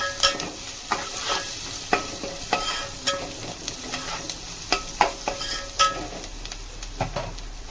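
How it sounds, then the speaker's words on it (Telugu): Onions sautéing in a pan with turmeric and salt, a steady sizzle and fry broken by repeated sharp clicks and scrapes of stirring, close and fairly loud with no talk. "ఈ ఆనియన్ మగ్గుతుండగానే నేను 1/2 స్పూన్ పసుపు, కొంచెం కల్లుప్పు"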